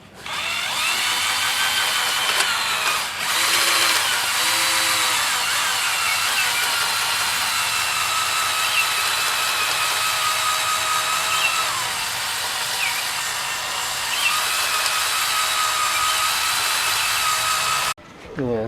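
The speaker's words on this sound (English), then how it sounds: "Cylinder, I think I could use a hone." A drill-driven hone works inside the cylinder of a Tecumseh HS50 small engine, a steady close whirring grind running almost unbroken before cutting off near the end.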